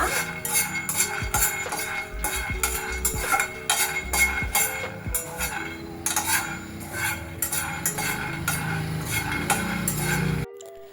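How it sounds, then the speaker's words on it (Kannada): Peanuts dry roasting in a hot pan, stirred with a metal utensil that scrapes and clinks steadily against the pan in close, continuous bursts, with no talking. "ಸ್ವಲ್ಪ ಡ್ರೈ ರೋಸ್ಟ್ ಆಗಬೇಕು ಕಡಲೆಕಾಯಿ ಬೀಜ"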